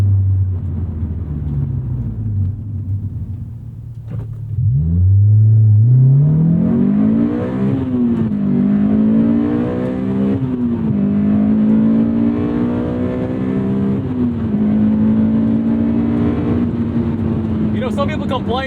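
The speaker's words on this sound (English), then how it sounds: "It makes you want to rev this thing out." A Honda S2000 AP2 engine is revved up through the gears, its loud rising and falling drone climbing in pitch with each pull, while someone talks over it.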